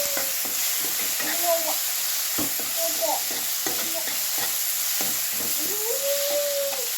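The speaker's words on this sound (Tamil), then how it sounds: "நல்லா ஆயில் பிரிஞ்சு வர அளவுக்கு ஃப்ரை பண்ணிக்கோங்க" Pepper chicken gravy with tomatoes, garam masala and chilli powder fries in oil, making a steady sizzle with stirring taps, while faint animal-like whines or mewing sounds rise over it now and then.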